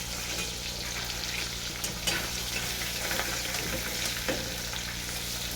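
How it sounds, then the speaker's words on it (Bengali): Fish frying in hot oil for a fish curry with winter beans: a steady, close hiss and crackle with a few brief louder pops, no voices. "কেমন লাল লাল ভাজা হয়েছে দেখছি মাছটা একদম লাল লাল একদম মাছ ভাজা"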